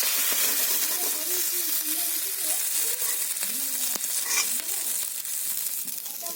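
Fish pieces fry in hot oil in a home kitchen pan for a curry with beans and eggplant, giving a loud, continuous bubbling sizzle with bright hiss and occasional pops that run steadily throughout.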